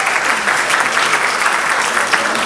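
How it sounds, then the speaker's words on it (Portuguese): An audience at a lecture gives a round of applause for Dr. Cristina Rodrigues Alves de Oliveira, dense, close clapping that stays loud and even from start to finish. "doutora Cristina Rodrigues Alves de Oliveira, uma salva de palmas."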